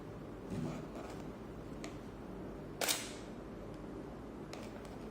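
A camera shutter fires once with a sharp, brief click as a Canon 580EX II flash is triggered through a Cactus V6 wireless trigger, quiet and close in an otherwise still room.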